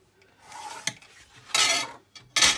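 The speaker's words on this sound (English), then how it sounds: "So we'll just use the old scissors." Scissors cutting through fabric-covered cardboard, a few separate rasping snips with a quiet scrape between them, close and crisp with no talk.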